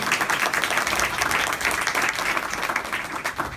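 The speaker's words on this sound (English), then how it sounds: "a big round of applause for them" An audience at a Dominican heritage month event bursts into sustained applause, dense clapping from many hands that stays loud and even throughout, with no break.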